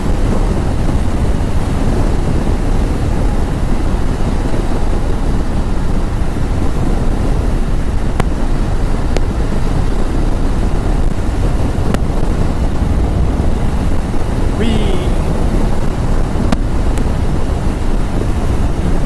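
Strong wind blows outdoors during a commute, a loud, unbroken rushing roar across the microphone that stays steady from start to finish, with no talking.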